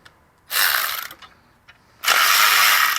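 A ratchet loosening the 12mm tensioner bolt on a Toyota Corolla during alternator replacement, giving two bursts of close, loud ratcheting clicks separated by a short pause with a few lighter clicks.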